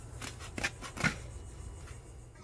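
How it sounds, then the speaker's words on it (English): A few quick snips of scissors cutting through landscape fabric for a French drain, close by, with a short pause between cuts and no talking. "Just stretch it out, cut it, use your knife, scissors, whatever you got"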